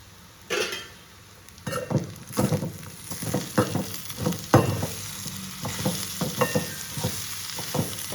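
Food sizzles and fries in a pan while a utensil stirs and scrapes, with irregular clinks and knocks over a steady hiss.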